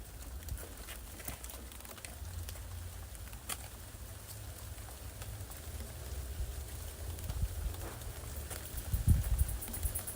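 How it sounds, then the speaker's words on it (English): Steady rain patters outdoors in rural Jamaica, a soft continuous wash with occasional louder drops and faint birds in the distance. "Raining."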